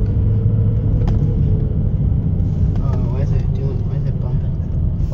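A 1996 Chevrolet Corvette C4 with a manual gearbox idles, then rumbles deeper as light throttle is applied, a continuous loud close-up engine drone with voices faintly present inside the car.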